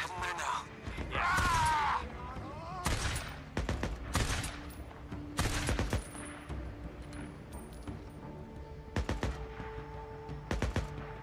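Gunfire crackles in the video game Days Gone as sharp bursts and single shots ring out between metallic clanks and mechanical noise, with a voice briefly heard amid the fighting.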